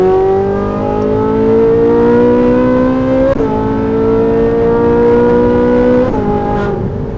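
A Ferrari 458 with aftermarket exhaust accelerating hard, its loud, close engine note climbing in pitch through two quick gear shifts.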